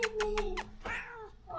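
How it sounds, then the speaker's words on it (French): Pet cats meow in a home, with a few short chirping calls followed by a longer drawn-out meow, close by and moderately quiet. "On a vraiment que des chats qui font que parler."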